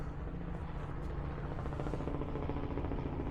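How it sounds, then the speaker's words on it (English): Helicopter passing over a river cruise ship's sun deck near Budapest, a steady distant rotor drone with faint rhythmic chopping, holding at moderate level throughout with no talking. "Even the occasional helicopter flyby."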